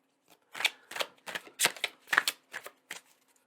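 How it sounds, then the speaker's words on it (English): Tarot cards being shuffled by hand, heard as about a dozen quick, crisp riffling bursts in an uneven rhythm, close and fairly quiet, with no talking. "Let's pull one more card there."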